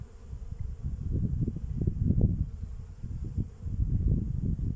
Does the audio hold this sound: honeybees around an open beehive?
yes